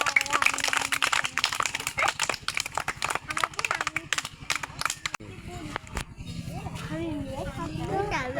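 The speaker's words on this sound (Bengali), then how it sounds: "অনেক সুন্দর, সবাই হাততালি দাও।" Children clapping their hands together in a classroom during a colour-learning song activity: a dense run of quick, uneven claps that stops partway, followed by a voice speaking.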